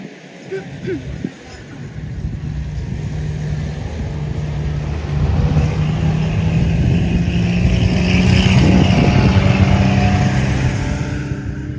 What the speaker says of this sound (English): You can see the Jeeps are now coming out as well.